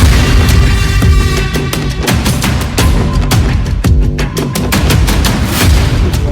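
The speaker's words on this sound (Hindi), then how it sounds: "बहुत भीषण आतिशबाजी भई है हमारे कानपुर में" Intense Diwali fireworks bursting in Yashoda Nagar, Kanpur, a loud dense barrage of rapid bangs and crackles firing continuously like gunfire, near and overlapping throughout with no speech.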